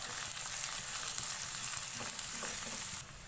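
Ginger and garlic frying in a pan while being mixed, a steady close hiss of oil with faint stirring scrapes, ending abruptly as the sizzle drops.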